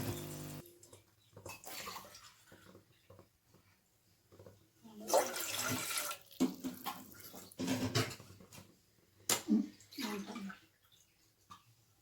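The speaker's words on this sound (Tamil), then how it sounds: "தேவையான அளவு தண்ணி ஊற்றிக்கலாம்." Water pours into a cooking vessel for rava kesari in a home kitchen, splashing in uneven bursts that swell and fade, fairly quiet and with no talk.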